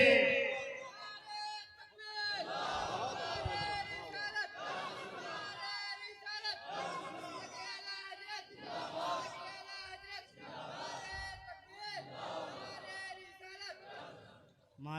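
A large gathering at a religious sermon answers the Naara-e-Takbeer call with repeated loud chanted shouts in waves, several bursts of massed voices heard at a distance.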